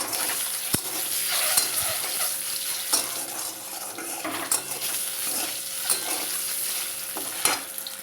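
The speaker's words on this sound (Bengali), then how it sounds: "এবার ডিমটা একটু ভেজে নেব।" A turmeric-coated egg fries in hot oil in a pan for a Bengali egg curry, with a continuous crackling sizzle and the repeated scrape and clink of a spatula stirring against the metal, no voices.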